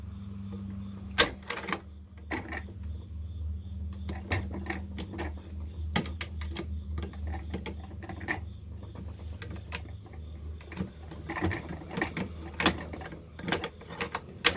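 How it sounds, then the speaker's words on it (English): A rifle bolt is worked and pulled out, giving a run of close metallic clicks, scrapes and clacks of uneven rhythm at moderate loudness, with no talking. "the first thing we're going to do is we're going to remove the bolt"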